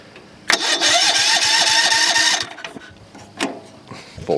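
A small engine on a junk-picked machine with the choke on cranks over in a fast, buzzing burst for about two seconds and then dies away. Scattered clicks and knocks follow, with a short rattle near the end.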